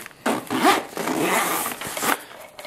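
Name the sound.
zipper of Condor EMT pouch IFAK being opened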